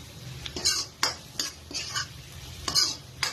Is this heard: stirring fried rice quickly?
yes